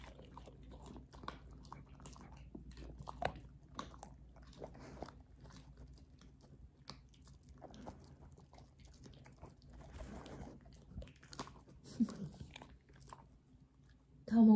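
An Old English Sheepdog chews mango with wet, irregular biting and crunching sounds, fairly close and moderately loud, while a person speaks softly now and then.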